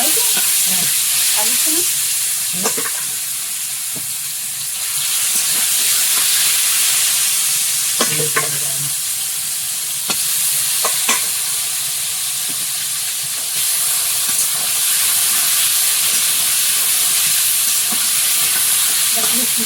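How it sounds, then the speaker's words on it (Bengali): River fish frying in hot oil in a wok in a Sundarban home kitchen: a loud, steady sizzle with occasional clinks of stirring, and a brief voice speaking over it. "তেলটা ঠিক মতো গরম হয়েছে, এবার মাছগুলো দেবো।"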